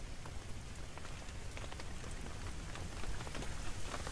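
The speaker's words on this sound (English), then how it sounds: "Why is it raining?" Steady rain falls in the video game Klepto, a dense hiss of drops pattering on surfaces with scattered distinct raindrop ticks, constant and fairly soft throughout with no talk.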